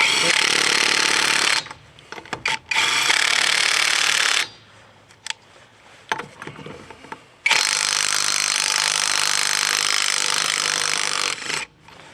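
A 20V AutoJare battery impact driver hammers at rusted lug nuts on a car wheel in long, loud rattling bursts separated by quiet gaps, with someone speaking briefly between them.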